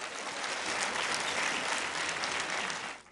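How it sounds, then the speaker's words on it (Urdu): A studio audience at a Pakistani TV talk show breaks into sustained, even applause that holds at full strength and then drops away quickly near the end. "میرا خیال ہے آپ کو ان کے لیے تالیاں بجانی چاہیے"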